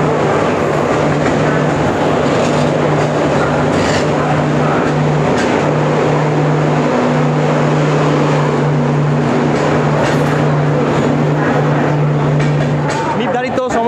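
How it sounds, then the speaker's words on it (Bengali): Jammu Tawi Express pulling into a station platform, a loud steady rumble of wheels and carriages with a sustained low horn or brake tone throughout and people talking in the background. "সময় থেকে 5 মিনিট দেরিতে 4 নম্বর প্ল্যাটফর্মে জম্মু তাওয়ায় ট্রেন ঢুকছে"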